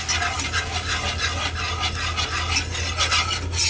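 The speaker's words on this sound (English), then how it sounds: "And then you want to start whisking this pretty quick. Whisking that flour in." A whisk scrapes quickly and continuously through flour and turkey drippings in a pan, making a dense, rhythmic rasping stir over a soft sizzle, close and fairly loud with no voices.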